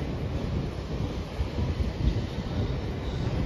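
A London train gives off a steady, broad rumble, with wind buffeting the microphone throughout the short stretch and no voices.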